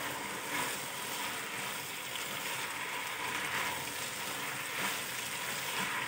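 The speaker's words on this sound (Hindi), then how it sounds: "इसी तेज आंच पे अब आपने इसे पकाना है। अब इसमें प्याज, शिमला मिर्च, गोभी और गाजर ऐड करके अच्छी तरह से हिला दें।" Onion, capsicum, cabbage and carrot stir-fry over high heat in a pan, giving a steady, dense sizzle with no talk over it.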